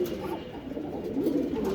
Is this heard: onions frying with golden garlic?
no